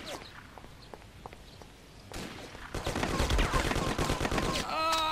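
Distant gunfire in an airport shootout from the game Mafia, scattered faint cracks at first, then building into loud, rapid bursts of automatic fire with clattering impacts, continuous and close by the end.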